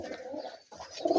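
A pair of Mushti Dobaj pigeons, Rajshahi Giribaj flying stock, coo softly nearby in a few rolling calls, breaking off briefly before the cooing swells again, louder, at the end.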